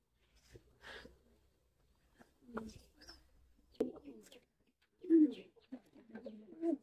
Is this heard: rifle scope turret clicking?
no